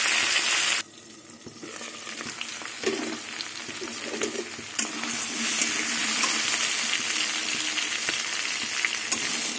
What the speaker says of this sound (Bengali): এবার ঢেকে ঢেকে কচুটা ভেজে নেব।